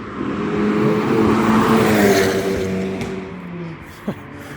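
Cars pass on a 30 mph road in Scotland, one vehicle sweeping close and loud with rising then falling engine and tyre roar, fading as another approaches and a brief thump sounds near the end.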